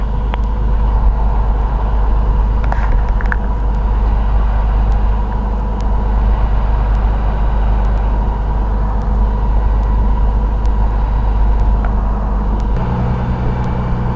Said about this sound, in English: Columbia 397 Sierra Tango, taxiing from the factory to runway 16